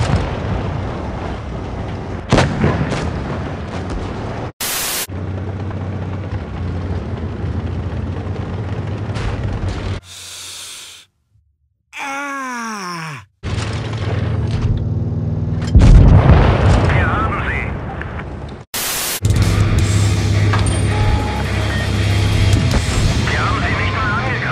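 Tank cannon fire in the World of Tanks Blitz video game: heavy booming shots and explosive blasts over continuous engine and battle rumble, loud and close, with a brief quiet break midway.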